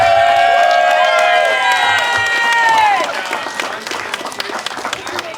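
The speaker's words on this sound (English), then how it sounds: "All right, let's hear it for Harry. Big round of applause." Wedding guests clap and cheer together, a loud sustained burst of crowd applause with shouts, easing off slightly after a few seconds but continuing.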